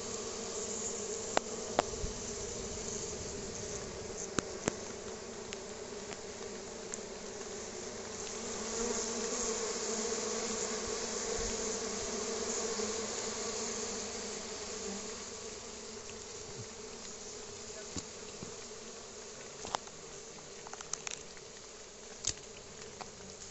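Bees swarm and buzz during hive harvesting in a field in the Dominican Republic, a dense continuous drone filling the air throughout, with scattered clicks and knocks nearby and no talk.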